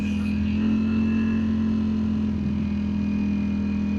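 A 2025 Ducati Streetfighter motorcycle engine hums at a steady, even pitch while riding on a damp tree-lined road, a constant mid-level drone with no talk.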